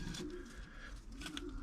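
An old racing pigeon, hatched in 2008 and a Belgian race winner, gives soft low cooing close by in a nest box, a couple of murmured coos under faint background noise.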